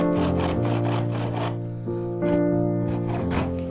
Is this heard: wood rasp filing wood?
yes